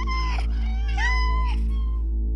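A cat meows several times in drawn-out, wavering cries over a constant low electrical hum, close and fairly clear, with no one talking.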